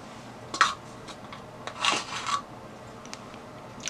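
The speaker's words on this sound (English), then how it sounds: "make sure you level the spoon like this" A flat edge scraping across a heaped teaspoon of baking powder to level it, a few short soft rasping strokes, close and quiet, with no voices.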